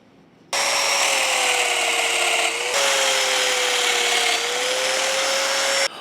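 A domino joiner plunges into plywood set with a gauge block, giving a loud, steady high-pitched motor whine with a slight pitch dip partway, running continuously for about five seconds after a sudden start.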